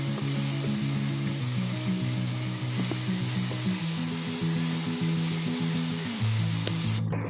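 Onion and tomato stir-fry in a pan with a loud, continuous close sizzle and hiss, while a stepped tonal melody plays underneath throughout; no one speaks.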